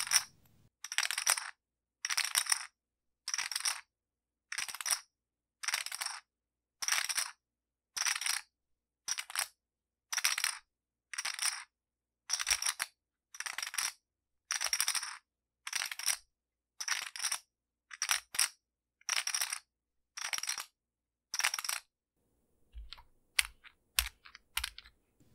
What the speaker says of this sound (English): Hands cut through the checks, they weave a tapestry of sound, a gentle cascade of tranquility.